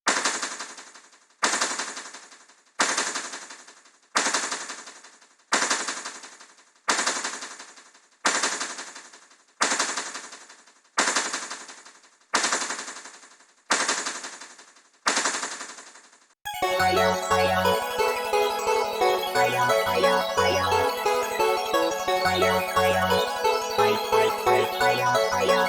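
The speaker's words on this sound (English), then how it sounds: "I'll bring in the auto on the hi-hat so you can hear the difference" A programmed drum loop with hi-hat and low hat starts as evenly spaced sharp hits, each decaying quickly, then shifts into a denser, continuous electronic groove with steady low pulses once the automation comes in.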